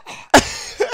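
A person fakes a cough while acting out a dying scene: one loud, harsh burst near the start, then two shorter coughs at the end, close up with quieter breathy sound in between.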